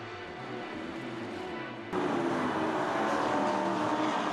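Stock cars race at a distance on the Curitiba circuit, engines droning steadily and rising in loudness partway through as the pack accelerates.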